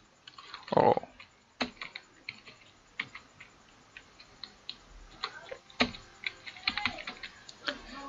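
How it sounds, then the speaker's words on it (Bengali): Light keystrokes on a computer keyboard come in scattered clicks and short bursts, fairly quiet and close, in a quiet room without anyone speaking. "এখানে যদি ভিডিও লিখি VIDEO"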